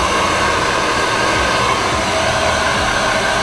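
A hair dryer blows steadily at close range to dry fresh paint, a loud, even, continuous whooshing roar with no pauses and no talk over it.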